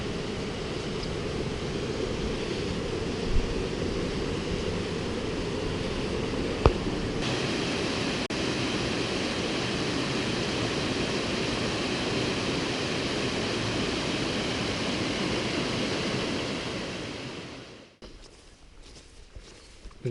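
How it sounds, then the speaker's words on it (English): A mountain waterfall roars as a steady, loud broadband rush throughout, with the sound dropping sharply near the end. "The waterfall may be a bit interesting today,"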